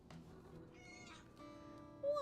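A house cat meows softly a few times, fairly quiet and close, with a rising cry at the end and faint background sound beneath.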